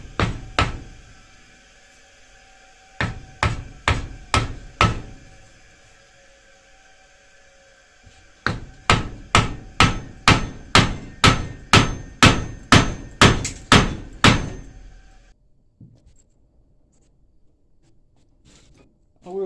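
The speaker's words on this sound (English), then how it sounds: "I'm going to use a lead hammer to drive it." A lead hammer drives a metal pin in sharp, ringing blows: a few isolated strikes, a short burst of four, then a rapid run of about fifteen evenly spaced hits before silence.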